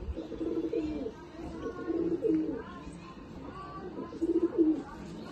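Pigeons coo in a home loft in repeated low, throaty phrases, several birds overlapping at close range against a faint ambient background.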